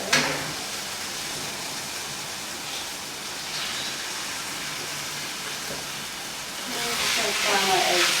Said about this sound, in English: Fry my eggs.